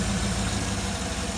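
A 2008 Cadillac Escalade with a GM 6.2L engine idles just after its purge valve is reconnected, giving a close, steady low rumble with a faint rhythmic pulsing and no talk.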